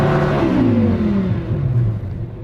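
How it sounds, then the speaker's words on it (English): A twin-turbo Lamborghini Huracan's 5.2-litre V10 engine revs high and then drops in pitch, a loud sustained roar winding down over a couple of seconds. "what we'll do before we race is to rev up our engine"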